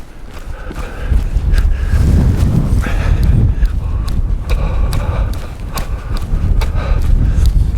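A horse moves around a riding ring, its hooves thudding in a steady, rhythmic clip-clop close by over a rumbling background. A rider occasionally murmurs.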